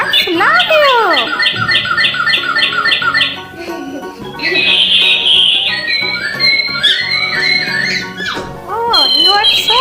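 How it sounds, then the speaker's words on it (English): A toy singing bird in a cage gives off loud, continuous electronic chirps, squawks and warbling whistles, repeating in quick trills with a short dip midway, while a voice speaks over it. "Singing birds on the cage."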